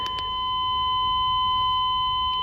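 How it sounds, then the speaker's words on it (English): A warning buzzer sounds steadily in the cab of a 1999 Chevy C3500 truck, a continuous loud electronic tone holding throughout with a couple of brief clicks at the start. "that buzzer is just gonna be entirely annoying for you guys"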